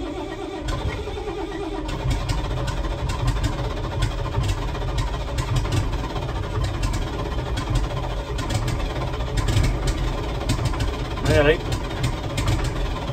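A David Brown 1690 diesel tractor starting from cold runs rough and uneven, firing on only some cylinders, its engine rumbling continuously close by while people talk over it.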